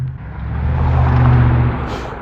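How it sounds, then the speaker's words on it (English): Steady rumble of road traffic outdoors, a car swelling past close by and fading, continuous low engine and tyre noise with no voices. "God, there's a lot of traffic today."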